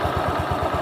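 A car engine idles after a water pump replacement, with a low, even rhythmic chug of regular pulses and light clatter, steady and moderately close with no talk.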